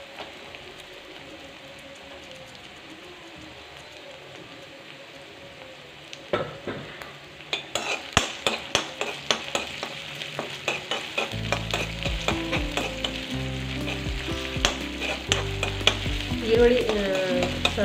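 Onions frying and being stirred in a pan over a medium flame for gobi manchurian: steady sizzle that grows louder midway, with repeated sharp scraping and clinking of a spoon against the pan, no voices.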